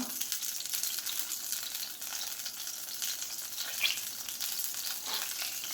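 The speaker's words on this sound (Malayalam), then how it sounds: "വെളിച്ചെണ്ണ ഒന്ന് ചൂടായി വരുമ്പോൾ അതിലേക്ക് നമുക്കൊരു 1/4 ടീസ്പൂൺ ഉലുവ ഇട്ട് കൊടുക്കാം." Fenugreek seeds dropped into hot coconut oil for a fish curry, a steady, fairly soft hissing sizzle that carries on evenly throughout.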